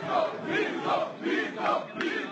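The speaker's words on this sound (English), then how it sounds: "the rapturous applause he's receiving as he travels the country" A large crowd at a Brazilian presidential campaign rally for Bolsonaro roars and cheers in rhythmic swells, loud and close, with chant-like waves rising and falling about every half second.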